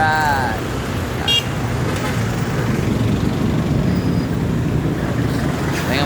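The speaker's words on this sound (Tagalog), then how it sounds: "Traffic, medyo traffic, konti traffic lang ako." Road traffic heading from Alabang toward Manila near SM Sucat, with a steady rumble of vehicles and a few short car horn toots, someone talking over the traffic.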